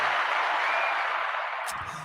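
A steady wash of applause fills the space and fades off near the end.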